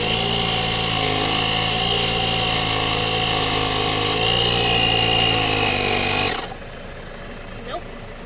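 Carsun multifunctional digital car tyre pump running, a steady loud motor hum with a buzzing harmonic tone, then cutting out abruptly after six seconds, leaving quieter background.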